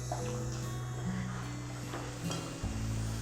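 Vegetables sauté in a pan for a South Indian curry, giving a steady soft sizzle close by over a constant low hum, with a few faint clicks and no talking.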